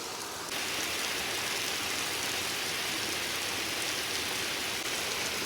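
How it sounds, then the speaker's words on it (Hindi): Heavy summer rain pours down on a village home with a courtyard, a dense, unbroken hiss of falling water that stays loud and even throughout, with no voices. "तो शुक्र है एकदम से अचानक से बारिश शुरू हुई है"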